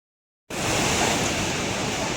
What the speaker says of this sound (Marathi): समुद्राला भरती असल्यामुळे जवळजवळ त्याच्या लाटा इथे येतात पूर्ण गाडीलाच